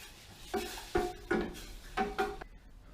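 A spoon stirs lemon sugar syrup in a pot, giving about five soft scraping, knocking strokes against the metal in an irregular rhythm, close and fairly quiet with no voices.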